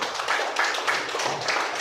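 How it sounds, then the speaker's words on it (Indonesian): Schoolchildren in a classroom clap for a classmate, a brisk, close, steady burst of many hands clapping, with a faint low voice mixed in near the end. "Tepuk tangan buat si Didi."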